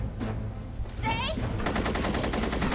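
Gunfire during a Buffy the Vampire Slayer episode, a burst of shots ringing out amid dense, noisy action with a voice briefly heard, then sustained rapid firing that fills the second half.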